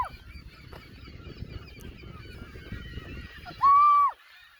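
A flock of seagulls calls at a lake parking lot, faint overlapping cries under a low outdoor rumble, then one loud, drawn-out call close by near the end.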